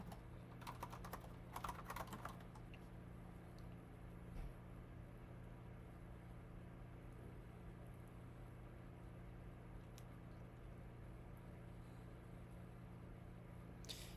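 A computer keyboard being typed on while coding: a quick burst of soft, close key clicks in the first seconds, then a few scattered taps over a low, steady room hum.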